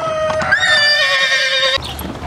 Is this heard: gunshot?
no